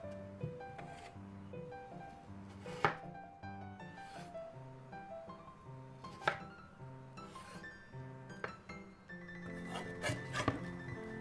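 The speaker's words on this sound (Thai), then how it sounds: "เริ่มจากนำมันฝรั่งมาหั่นเป็นเตาขนาดประมาณ1คูณ1นิ้วนะคะ" A knife cuts potatoes into roughly one-inch cubes on a board, giving sharp, spaced chopping knocks, some louder than others, with faint clinks and rubbing between cuts.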